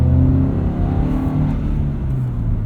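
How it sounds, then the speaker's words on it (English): A 2022 Subaru BRZ fitted with an MRT axle-back exhaust drones steadily from inside the cabin, its deep engine and exhaust tone rising slightly as it revs, continuous and fairly loud with no talking. "instead of just hearing engine sound, you hear a bit of exhaust back there now too"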